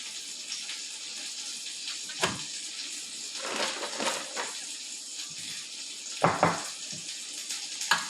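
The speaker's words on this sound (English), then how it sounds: "I smell the mushrooms. They are sauteing in the butter." Mushrooms sautéing in butter in a pan, a soft, steady sizzle with scattered louder stirring bursts, quite faint and with no voices.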